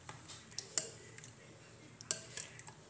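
Spoon stirring coconut milk into a mango and sago jelly mixture in a bowl, two sharp metallic clinks against the rim over faint soft scraping, quiet and close with no talk.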